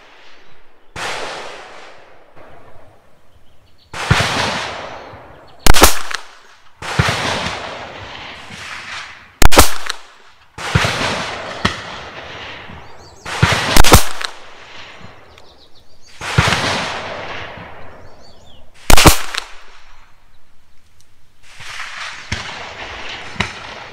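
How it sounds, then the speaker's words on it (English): A High Standard Sport King pistol fires a five-shot string, each crack sharp and close, spaced several seconds apart with quieter rustling and handling between shots. "I'm just going to start that last five shot string over again"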